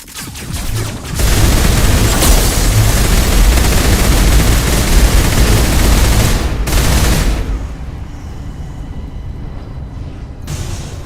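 Sustained, loud gunfire from a Mass Effect firefight, a dense barrage running for several seconds before thinning into a quieter rumbling aftermath with scattered shots.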